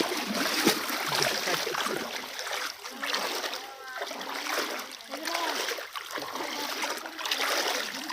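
A small wooden boat being pulled through river water gives off steady splashing and trickling, with an ongoing wash of moving water under intermittent voices calling out nearby.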